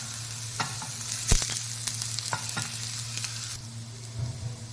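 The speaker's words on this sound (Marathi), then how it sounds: "आता तेल छान गरम झालेलं आहे। आपण सगळ्यात आधी आपण थोडंसं कांदा परतून घेऊ।" Onion sautés in hot oil in a pan, with a steady close sizzle broken by scattered crackles and a few stirring scrapes, and no voices.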